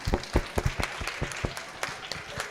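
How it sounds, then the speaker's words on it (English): Audience applause for a panel of speakers at a COP27 climate conference session, a short round of scattered clapping with several sharp claps standing out over a steady patter, moderately distant. "let's get a quick round of applause to our panelists."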